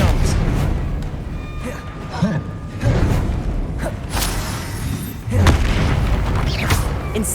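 Explosive Confringo spell casts from a Hogwarts wizarding video game, a run of loud booming blasts with whooshes and creaks, several sharp bursts around the middle and a heavy one near the end, over a dense busy background.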